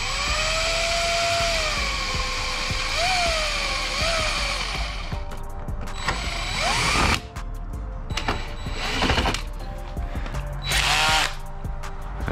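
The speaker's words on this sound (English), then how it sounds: "we're gonna drill the rest of the holes" Power drill boring holes to mount a carbon fiber splitter on a widebody Dodge Charger Scat Pack, loud and close, with rising and falling motor whine and several separate bursts of drilling, no talk.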